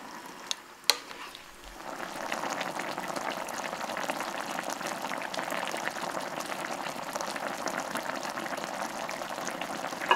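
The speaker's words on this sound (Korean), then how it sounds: "끓기 시작하면 떡과 어묵을 넣고 물엿을 한 스푼 넣어 졸여준다" Rice cakes and fish cakes simmering in a boiling sauce sweetened with a spoon of syrup, a steady bubbling hiss after a couple of brief clinks at the start, close and moderately quiet.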